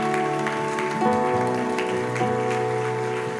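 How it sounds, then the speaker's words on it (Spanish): Congregation applauding during a Spanish-language church service, steady clapping over sustained music with held organ or keyboard chords throughout. "Dale un fuerte aplauso al Señor."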